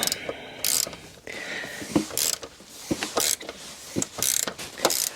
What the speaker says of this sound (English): So we've got the 4th bolt coming out here.